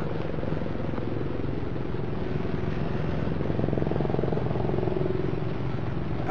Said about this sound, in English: The Apache's overhead, like.